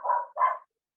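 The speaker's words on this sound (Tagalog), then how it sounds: "nananahol ang aso ko" Two quick, close barks from a dog, sharp and fairly loud, followed by silence, with no talking over them.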